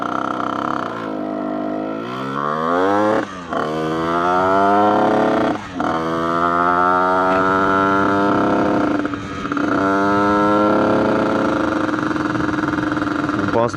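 A 70cc moped engine with a nearly new cylinder starts and runs, its droning two-stroke note rising and falling as the throttle is blipped, loud and close throughout with brief dips.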